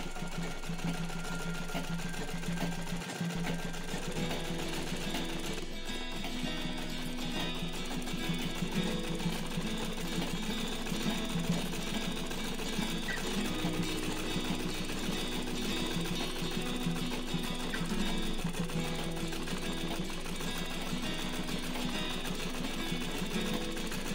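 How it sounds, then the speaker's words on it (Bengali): A sewing machine double-stitches the corner of a homemade blanket, running as a steady, continuous mechanical whir up close for the whole stretch with no talking. "এই ডবল সেলাইটা দিলে এই কোণাটা একদম এখানে সেটে বসে থাকবে আর একদম পোক্ত হয়ে যাবে সেলাইটা"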